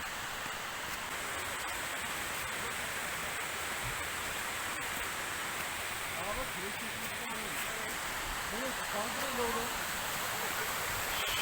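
Waterfall near the Wish Fountain in Yedigöller National Park, heard as a steady broadband rush of falling water with faint rustling and a few distant voices over it.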